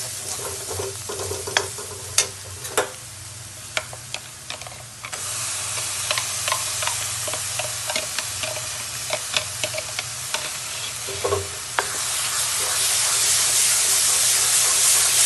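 Tomato paste, garam masala and spices frying in oil for a Punjabi besan pakora curry, with a constant sizzle that grows louder and hissier near the end, broken by sharp scraping and clinking stirs of a spoon in the pan.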